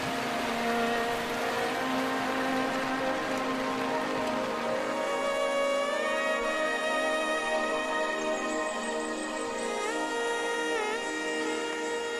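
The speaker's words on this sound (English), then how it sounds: "By the time the rain stops, the elephants are long gone." Steady rain falling in the African wilderness, a continuous soft hiss under sustained tonal droning sounds, unbroken and moderately faint for the whole stretch.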